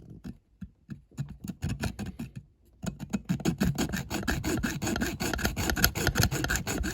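A junior hacksaw cuts through a Corgi die-cast model Mercedes ambulance, giving rapid back-and-forth rasping strokes, hesitant and spaced at first, then a quick, steady, close sawing rhythm.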